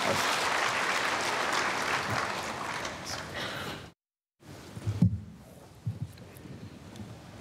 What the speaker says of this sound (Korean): 우리 박현철 형제님 나와서 간증하실 때 박수로 따뜻이 환영하겠습니다